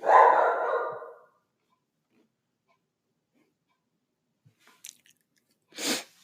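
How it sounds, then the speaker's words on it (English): Dogs bark indoors during a spoken show, one loud, rough bark at the start, then near silence broken by a few faint clicks and a second short bark near the end. "I'm sorry for this, but can't control the dogs"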